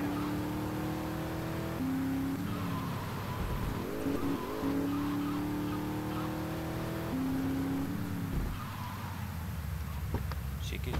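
Car engine from GTA Vice City, a custom car built from a mix of five or six cars, drones steadily throughout with pitch shifts as it drives, and a voice talks over it.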